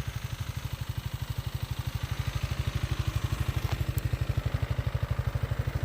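A 2006 Yamaha Morphous maxiscooter engine idles close by with a steady, rapid low putter, evenly pulsing and moderately quiet, with a faint click partway through.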